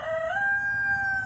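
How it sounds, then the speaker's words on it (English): A rooster crows close by, one sustained, rising call. "My rooster has a lot to say."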